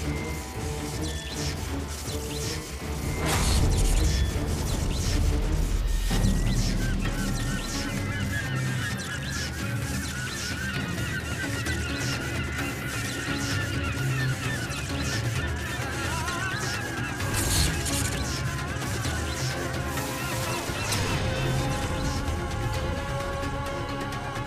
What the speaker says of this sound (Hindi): पक्षी भी भेद नहीं सका इस बाधा को, उसे टकराकर अपने प्राण गंवा बैठा